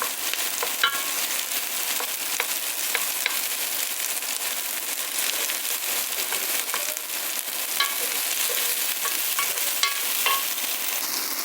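Onion frying in a pan, a close, steady crackling sizzle with scattered sharp pops and light stirring scrapes throughout.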